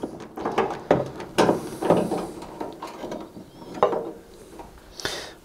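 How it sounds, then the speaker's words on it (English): A screw being turned out of the side panel of a Zanussi tumble dryer, giving a series of small mechanical clicks and ratcheting scrapes close by and fairly quiet, in short irregular bursts. "With the final screw removed"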